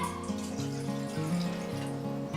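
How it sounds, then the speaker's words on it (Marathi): Water pours into a cooking pot that holds a tablespoon of ghee, a steady filling stream with a rising tone, close and alone. "त्यासोबतच आपण यामध्ये टाकून घेऊयात पाणी"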